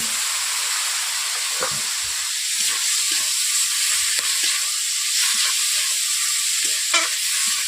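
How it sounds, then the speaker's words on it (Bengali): Mixed vegetables with chili powder frying in a hot kadai, a steady close sizzle and hiss with scraping stir strokes and occasional clatter throughout, no voices. "এরপর আমি সবজিগুলোকে কড়াইয়ের মধ্যে দিয়ে দিচ্ছি।"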